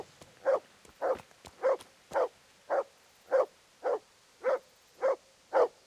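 A dog in the video game Kingdom Come: Deliverance barks repeatedly, about ten evenly spaced barks at a steady rhythm, moderately close with a quiet background and no talk.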